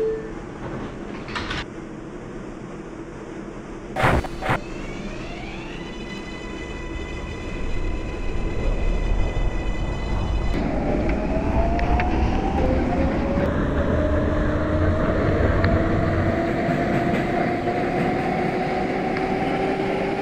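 NYC subway 6 local train running between stations on the Manhattan-bound line, with door chimes and a loud rush of wheels and motors building to a steady roar, alongside rising electric motor whines.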